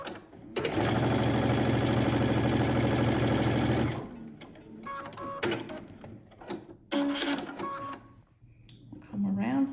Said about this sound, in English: So we'll sew through. We'll line that up nicely.